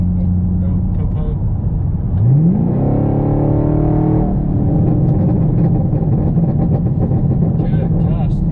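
A car fitted with an Ultimate9 evcX throttle controller accelerates hard from inside the cabin, engine note rising steeply then holding a loud droning roar, with a voice speaking near the end.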